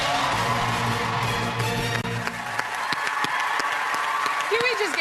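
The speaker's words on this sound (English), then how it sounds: "Can we just get that applause going for all the people who make this show happen?" Studio audience applause on the set of Big Brother Canada, a dense steady wash of clapping and crowd noise running throughout, with a host talking over it.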